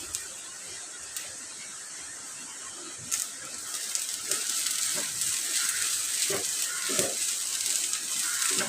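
Grated coconut, dried red chillies and curry leaves sauté in a hot pan, giving a soft, steady sizzle with occasional scrapes and stirring clicks, close by and moderately quiet, with a voice talking at times.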